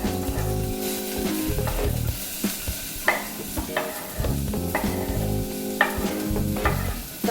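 Sliced onions hit hot oil with whole spices in a pan for restaurant-style vegetable kurma, giving a steady close sizzle broken by repeated scraping stirs and clinks of a spoon against the pan, with no talk.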